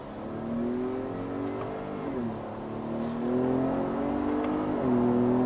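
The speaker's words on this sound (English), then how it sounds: "So now I'll be able to accelerate a little bit. Try to get up to 60 once again." A 2020 Ford F-150 Raptor in two-wheel drive and manual mode accelerates using its paddle shifters, its engine note climbing steadily with two audible shift dips before pulling higher again, heard from inside the cabin without talk.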